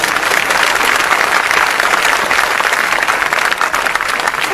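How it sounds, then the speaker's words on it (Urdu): A conference audience in Jhang applauds loudly and steadily, dense clapping from a large crowd filling the space with no pause. "آپ کی تالیوں سے اندازہ ہوگا کہ اعلان سے خوشی کتنی ہوئی ہے"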